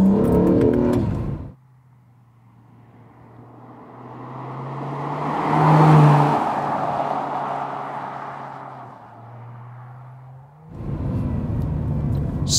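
A Honda NSX sports car on an open road, its engine note rising into a loud, swelling rev that peaks mid-pass and then fades back down, with louder voices or cabin sound bracketing the drive at start and end.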